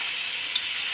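String beans and bitter melon frying in a pan give a steady, close hiss of sizzling oil with one brief louder pop partway through.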